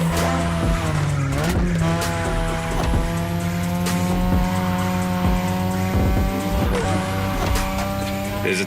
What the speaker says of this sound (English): Tonight your ride is a 3rd Gen 2002 Mazda RX-7.